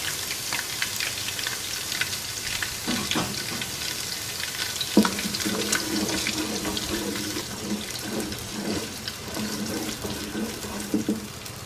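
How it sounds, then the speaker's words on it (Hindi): Onion paste sizzles steadily in a pan for beef paye, a dense close hiss with soft stirring clatters running underneath and no voices. "और इसको हल्का सा फ्राई कर लेंगे"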